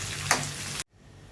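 Onions frying in a pan for a dried-meat curry, a brief steady sizzle with a stirring scrape before it cuts to near silence.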